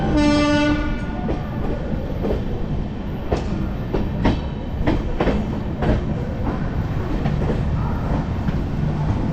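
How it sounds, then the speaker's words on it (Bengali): Train 22588 Benaras–Sealdah Amrit Bharat Express running at speed, heard from inside a general-class coach: a loud, constant rumble with a horn blast at the start and rhythmic wheel clicks over rail joints throughout. "ট্রেন এখন মোটামুটি স্পিডেই চলছে"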